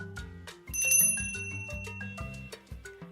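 An entrance bell rings at a house door in a children's storybook scene, a quick series of bright, metallic rings in a rapid rhythmic pattern, close and clear.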